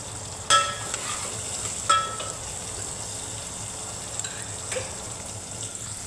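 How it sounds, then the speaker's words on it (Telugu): Sliced onions frying in oil in a pan for a mutton curry, a steady soft sizzle with a few sharp clanks of a spoon stirring near the start and middle. "యాడ్ చేసుకొని 2 నిమిషాలు ఫ్రై చేసుకోవాలి ఆయిల్లో ఆనియన్స్ని."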